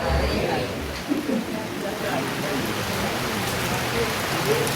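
Rain falls steadily, a dense even hiss that stays continuous and fairly loud, with faint voices underneath.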